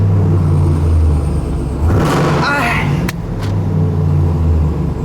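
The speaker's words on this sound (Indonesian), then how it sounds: "Sport mode sama tuh suara knalpotnya." American double-cab pickup truck in sport mode, its exhaust rumbling low and steady with a brief rev swelling in the middle, heard close under a person talking.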